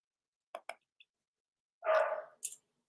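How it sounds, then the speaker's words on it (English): A small dog gives a few short yips, then one longer, louder bark-like whine, heard alone in a quiet room. "Did you hear Henry's barking at John because he's making dinner"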